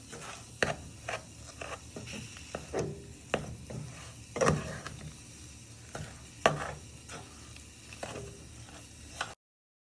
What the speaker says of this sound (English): Just want this to melt. And you stir it all the way round.